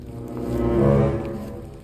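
A large goat gives a single drawn-out, low, nasal bleat that swells and fades, heard close by.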